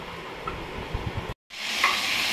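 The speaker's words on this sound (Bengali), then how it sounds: "এখানে চিকেনটা ভাজা হচ্ছে।" Chicken frying in a pan while making butter chicken: a low, steady sizzle with soft stirring scrapes, briefly cut off by a gap of silence before the frying hiss returns brighter and louder.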